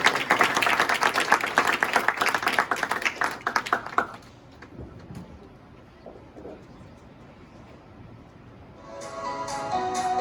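A short burst of audience clapping at a youth martial arts black belt event, fairly loud for about four seconds, then dying away into quiet room noise.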